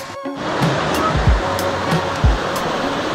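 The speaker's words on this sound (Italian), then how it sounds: "Questo è il fiume," A river in the Guria countryside of Georgia, swollen by rain, rushes with a loud, steady broadband roar close at hand. A few low thumps sit under the flow, and no one speaks.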